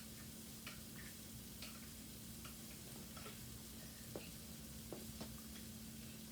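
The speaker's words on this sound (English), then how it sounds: "And then we're just going to stir this up in the crock pot." A spoon stirs beef fajita soup in a crock pot, giving faint, scattered scrapes and clinks over a steady low hum and a soft bubbling hiss, with no talking.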